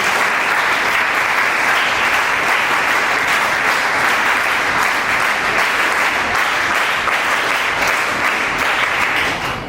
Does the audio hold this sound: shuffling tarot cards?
no